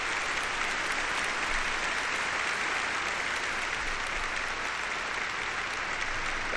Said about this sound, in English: Clap, doctors, clap.